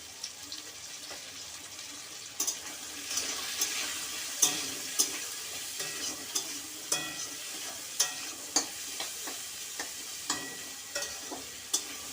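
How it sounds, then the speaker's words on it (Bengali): Chalkumro (ash gourd) greens with turmeric and salt frying in a pan, a soft constant sizzle punctuated by regular scraping stirs of the spatula, quiet and close, with no talking. "সবজিটা আমার হালকা করে ভাজা হয়ে গেছে।"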